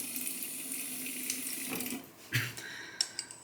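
Tap water runs steadily in a strong hissing stream onto a Chinese natural hone used for sharpening a Shumate straight razor. The flow stops around the middle, and a few close knocks and clinks follow.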